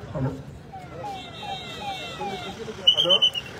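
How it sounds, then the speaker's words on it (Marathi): A police car siren wails and sweeps in pitch, with short electronic yelps near the end, amid background noise and brief voices. "पोलीस गाडी आलेली आहे।"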